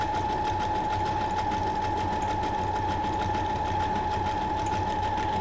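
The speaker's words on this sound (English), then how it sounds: "you probably missed quite a bit of that stitching, but this is a slow stitch here" Sewing machine running steadily through a slow stitch on a Halloween junk journal pocket, a constant close mechanical whir with a steady hum and no pauses.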